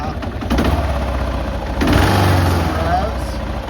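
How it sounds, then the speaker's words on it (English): A Kawasaki KLR 650 single-cylinder adventure motorcycle, its engine still cold, idles roughly and then rises in a couple of moderate revs before settling, heard close up and steady. "Some revs. These engines, man, it's like a lawnmower."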